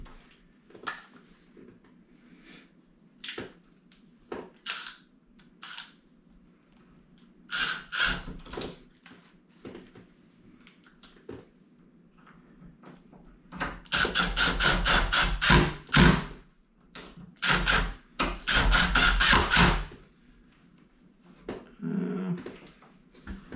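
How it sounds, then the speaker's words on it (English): Screws being driven to fit a door latch on an antique door during a Ryobi lock and latch install, irregular knocks and clatters at first, then sustained bursts of rasping, whirring tool noise, near and fairly loud. "We can go ahead and put our screws in and see how it looks."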